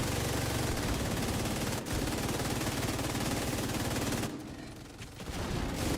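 Light machine gun fire in The Division 2, long rapid sustained bursts from several guns at once, loud and continuous with a brief pause near the end before firing resumes.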